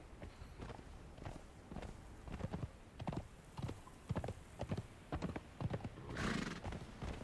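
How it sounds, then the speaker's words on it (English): Horse hooves clop steadily on the ground in a brisk, repeating rhythm, close by, with a horse's snort near the end, in the video game Conan Exiles. "let me get on my horse real quick"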